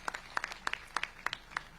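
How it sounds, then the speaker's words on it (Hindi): At a village development meeting, a handful of people give quick, sharp hand claps, about a dozen separate claps in an uneven rhythm, faint and sparse rather than a full ovation. "बहुत जोरदार एक बार तालियों से"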